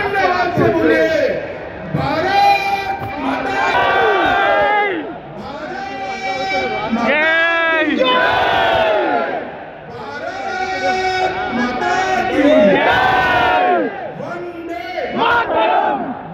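A huge crowd at a political rally in Secunderabad with hands raised, roaring and chanting loudly in swelling waves of massed voices, dense and continuous.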